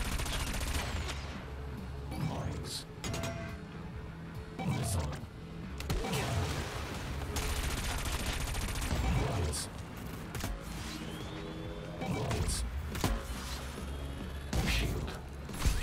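Rapid cannon fire from a futuristic anti-gravity racing game, Wipeout Omega Collection, crackling in fast bursts over a constant roaring engine and music bed.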